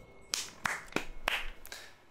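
Five sharp hand claps spaced roughly a third of a second apart, fairly close and dry, in the Fallout 3 game with no talk over them.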